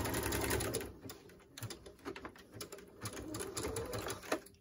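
Sewing machine stitching a zigzag seam on a fabric face mask, with rapid mechanical clatter in short bursts and pauses, close and fairly quiet, with no talking.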